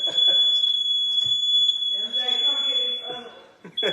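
A smoke alarm set off by oven cooking for a baked smothered chicken dinner sounds a shrill, sustained electronic tone that runs under people talking loudly nearby throughout.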